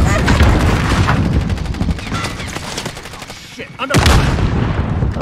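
Rapid automatic gunfire in a shooter video game, loud dense bursts that thin out briefly before another heavy volley, with voices faintly in the mix.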